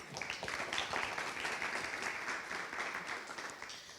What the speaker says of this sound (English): we need a breath and a round of applause for all of these ladies